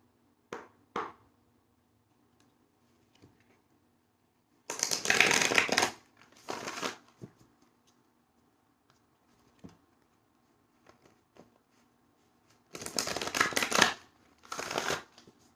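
Tarot cards are shuffled in several close, crisp, rapid riffling bursts separated by quiet pauses, with a few faint taps and no talking.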